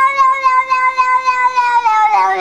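A cat gives one long, loud, drawn-out meow that wavers in pitch and rises into a strained caterwaul at the end, sounding alone and close.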